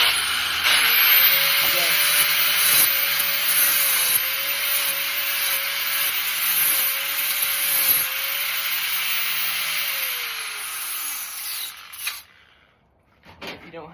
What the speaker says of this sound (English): I just have an angle grinder without its handle